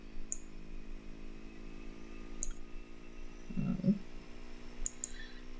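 Mouse clicks while clone-stamping in photo editing software: a few sharp, sparse taps spread over several seconds against a quiet room hiss with a soft low murmur in the middle.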